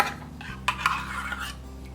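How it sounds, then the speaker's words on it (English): Eggs, sugar, applesauce, almond milk and Greek yogurt are whisked in a bowl, giving a steady close scraping swish with a few light clinks of the whisk against the bowl. "I'm going to whisk all this together real well"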